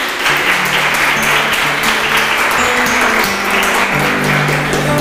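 A church congregation applauds the newly baptized with a loud, sustained, even wash of clapping that fills the room throughout, under a low steady hum.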